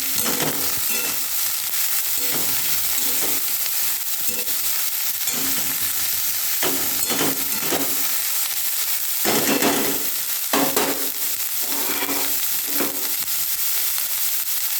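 Beans, carrot and capsicum stir-fried for fried rice, a steady loud sizzle broken up by repeated scraping and tossing sounds from the stirring.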